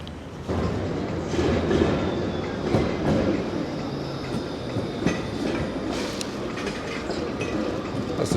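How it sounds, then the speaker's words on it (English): A tram rolls past on a city street in Sofia, Bulgaria, loud and close, with a continuous rumble, rhythmic clickety-clack of wheels over rail joints and occasional metallic squeals. "As the tram goes past, and obstructs our view"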